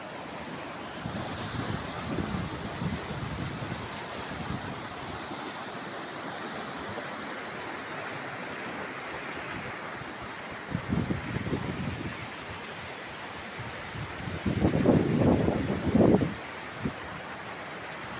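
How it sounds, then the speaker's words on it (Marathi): A small monsoon waterfall spills from a little lake beside the road to Kaneri Math near Kolhapur, giving a steady rushing wash of water with louder gusts of wind buffeting the microphone. "आणि आता पावसाळ्यामध्ये ह्या तलावातलं पाणी धबधब्याच्या रूपानं असं वाहत आहे."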